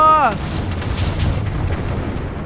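Rapid gunfire bursts with booming impacts in Minecraft fill the clip, loud and continuous after a short descending electronic tone at the start.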